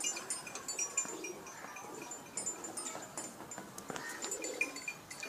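Rooftop pigeons kept as pets in Pakistan coo softly in scattered, low murmurs, with faint chirps and rustling close by.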